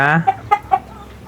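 Native Darag chickens on a free-range farm cluck nearby, a short drawn call followed by three quick, distinct clucks in an uneven rhythm, with no talk over them.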